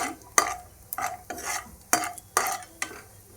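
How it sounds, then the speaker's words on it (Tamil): Cashews frying in ghee in a pan, with five or six sharp scraping stirs of a spoon rising over a faint sizzle, close by, no voices. "இப்போ வந்து நம்ம முந்திரி சேர்த்துக்கலாம். இது நல்லா ஃப்ரை ஆகணும்."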